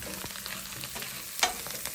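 Garlic and parsley sautéing in a pan, a quiet steady sizzle with occasional light clinks and scrapes, no voices.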